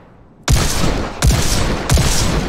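A gun fires three times in the VR shooter Bullet Train, each loud close shot evenly spaced with a heavy kick and a short tail.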